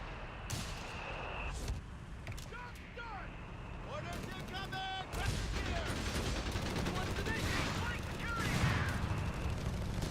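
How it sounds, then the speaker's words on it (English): A machine gun bunker in Company of Heroes fires in rapid bursts amid a busy World War II battlefield, with explosions, clattering gunfire and a voice over the noise. "we're freaking rocking that machine gun bunker"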